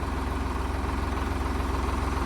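A tractor with a jammed hydraulic lift idles close by, a steady, even low-pitched throbbing that runs unbroken without speech.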